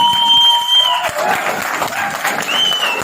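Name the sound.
applause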